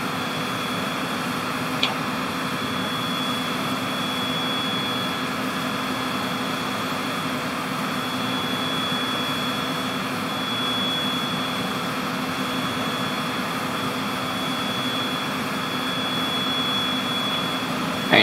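An aircraft engine drones steadily from inside the cabin during the landing approach, a loud, unbroken roar with a faint high whine above it and no voices.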